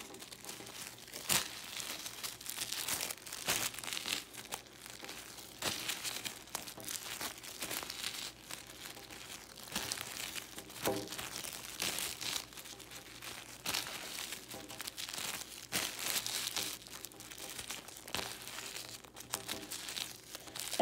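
Tissue paper is folded back and forth accordion style for a paper flower, giving soft, continuous close crinkling and rustling with small crackles throughout.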